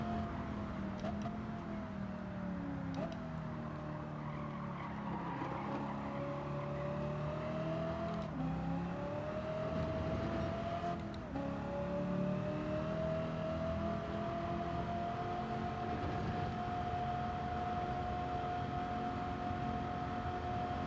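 In Gran Turismo 7, a race car engine sits on its rev limiter: a continuous, fairly quiet, strained tone held almost level for the full stretch, with slight dips and pulses.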